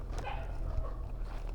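A dog barks at visitors near an old house by Caliraya Lake, giving a couple of short barks over a low outdoor rumble at moderate distance.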